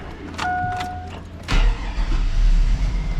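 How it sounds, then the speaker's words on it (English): A 2000 Chevrolet Silverado truck is started after a window regulator repair: a chime and clicks first, then the engine cranks and catches into a rough running rumble, close by, with no talk. "I'm actually gonna see if my truck will crank over right now."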